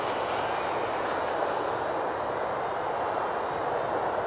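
A Firebird Stratos radio-controlled airplane on its landing approach at night, giving a steady, loud, broadband whirring and rushing drone that holds constant throughout with no pauses.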